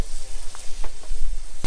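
Tuna sizzles loudly in a hot pan for tapas, a dense steady hiss with small pops and a brief scrape near the end.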